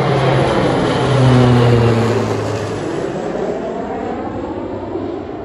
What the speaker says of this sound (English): the planes, sometimes huge ones, just fly right over your head